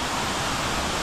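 Durian Perangin waterfall in Langkawi rushes in a dense, steady roar of falling water, close and loud throughout the brief moment.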